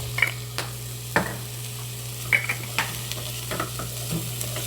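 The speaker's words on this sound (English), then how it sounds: "I'm going to saute it so that the oil is really coating the onion thoroughly" Onion sautéing in oil seasoned with pepper and salt for beef chili, a soft continuous sizzle broken by several sharp spoon clacks and stirring scrapes in the pan.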